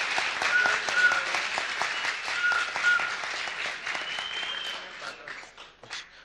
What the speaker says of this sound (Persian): کاری فکر کنم جای تشویقی داره که همه تشویقشون کنین